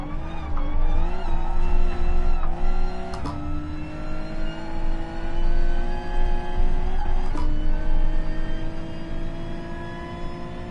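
A Gr.3 race car slides at Willow Springs in GT Sport, its tyres squealing loudly over a revving engine with sharp gear shifts, all close and without talk.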